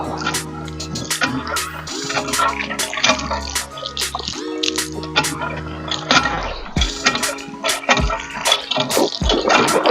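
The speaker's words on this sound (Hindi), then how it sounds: "यहाँ पर थोड़ी सी फ्रेशमेंट करते हैं ठंडे नलके के पानी से।" Cold water gushing and splashing from a hand pump tap outdoors in a forest park, with an uneven pumping rhythm of surges and drips, loud and close throughout.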